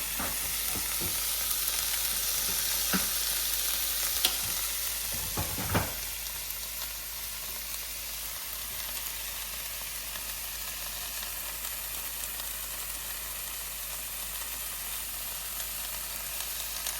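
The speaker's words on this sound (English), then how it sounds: "Now I think I'll put a few tomatoes in there." A frying pan of Swiss chard for a frittata sizzles steadily and loudly, with a few sharp crackles and spits as tomato pieces drop in near the start, then an even, continuous hiss.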